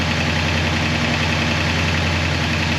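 A 1966 Oldsmobile 442 V8 with an Edelbrock carburetor idles at about 1200 RPM, a loud, steady, close rumble with an even low throb throughout and no voices.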